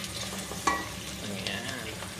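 Squid drops into a hot pan for adobong pusit with a sudden loud sizzle burst, then a steady crackling fry continues close by with a second flare partway through.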